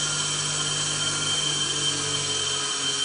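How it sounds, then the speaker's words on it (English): Honing grinder wheel spinning off excess oil, a steady close whirring hum with a constant tone and no pauses or voices. "the grinder here is spinning away from you"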